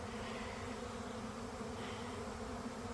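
A swarm of honeybees gathering around a swarm box on a farm makes a continuous, faint, even hum with no pauses.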